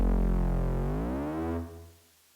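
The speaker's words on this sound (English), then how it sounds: "it's basically going to just be adding additional reverb sound to that bass" A deep synthesized trap bass note in Ableton Live, with extra reverb, swells and then fades out over about two seconds, heard alone.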